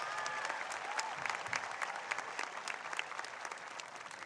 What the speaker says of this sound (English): Let's give a big round of applause for our students with exemplary attendance.